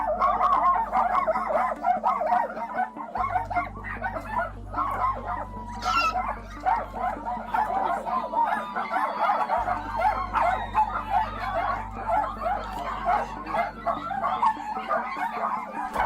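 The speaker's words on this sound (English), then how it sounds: "having so many dogs yapping at the same time" Many dogs in a house yap, yip and bark at once in a continuous, overlapping chorus with occasional whimpers and howls, loud and busy throughout the clip.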